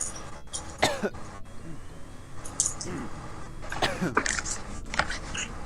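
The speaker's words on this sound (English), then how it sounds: "I just have to get rid of the cough, I think." A few harsh coughs and throat clears from a person, spaced irregularly through the moment, close and moderately loud over faint background rustle.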